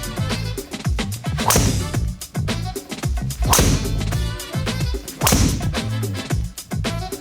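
A golfer hits shots with a Titleist TSi or TSR driver during a driver fitting: three sharp, loud cracks of club on ball, spaced a couple of seconds apart, with quieter thuds and movement between them.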